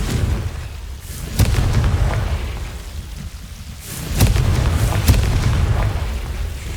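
Blasting spells go off in Hogwarts Legacy, with several sharp booming explosions spaced a few seconds apart over a rumbling, rain-like background.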